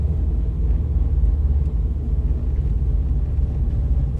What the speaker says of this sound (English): so you can hear your car.